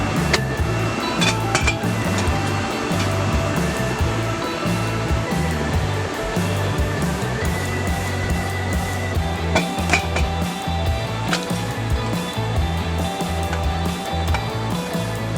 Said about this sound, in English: dump all the water out this time